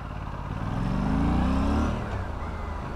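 A twin-cylinder motorcycle engine idles and swells steadily nearby, a deep continuous rumble that rises briefly midway and settles back, with no talking.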